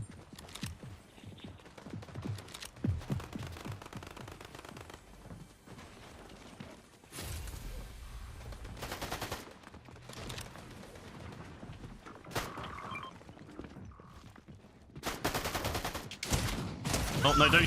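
Bursts of gunfire from the Fortnite Battle Royale Zero Build squads video game come in irregular clusters of rapid shots, some loud and close, others fainter, mixed with game effects and occasional voices.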